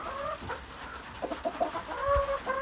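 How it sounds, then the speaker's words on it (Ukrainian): Roosters and hens in a backyard coop clucking nearby, a string of short, sharp clucks and calls with brief squawks, fairly faint against a quiet background. "Ці ходять, петушки ходять."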